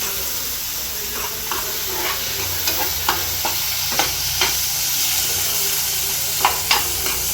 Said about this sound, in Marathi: थोडा हाफ फ्राय करून घ्यायचा.